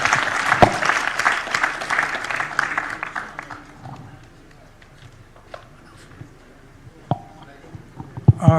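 An audience at a Sagarmatha Sambaad 2025 panel session claps for the panelists, with dense applause at the start that thins into scattered claps and fades, while a voice speaks over it.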